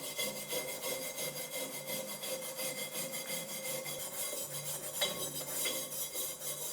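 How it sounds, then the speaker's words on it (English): Big rust flakes and built-up dirt are scraped off an old, roughly century-old cast iron pot, making a steady, close, gritty rasping that continues for several seconds, with a couple of sharper metallic scrapes near the end. "removing the big rust flakes and all the dirt that's built up over the years"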